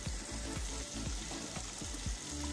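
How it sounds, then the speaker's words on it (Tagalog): Minced meat with green beans fries in a pan, Arabic style, giving a steady close sizzle with soft rhythmic stirring thumps and no talking. "Paluto na ang ating minced meat with green beans."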